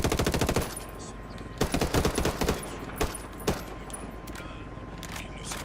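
Unsuppressed automatic rifle fire in the Ghost Recon Wildlands video game, with a rapid opening burst, then further bursts and a few isolated sharp shots, loud and close.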